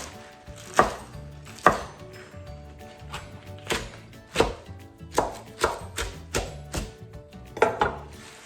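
Knife rough-chopping washed, destemmed collard greens on a board, about a dozen sharp close chops in an uneven rhythm with short pauses between bursts, no voices.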